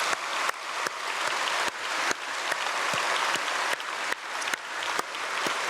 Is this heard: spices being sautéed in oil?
no